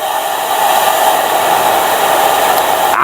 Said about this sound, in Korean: 만약에 헤어드라이기를 켜보겠습니다.